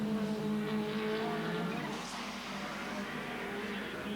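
Factory Toyota Supra and Toyota Corolla touring cars racing in traffic at the 1990 Sandown 500, a steady, loud blend of engine roar with a high tonal whine throughout.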